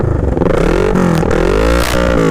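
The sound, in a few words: motorcycle engine revving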